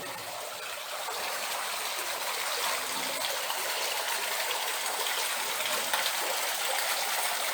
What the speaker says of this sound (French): c'est sans aucun doute la source qui coule le plus fort. Elle est plus bruyante et elle est plus abondante en eau.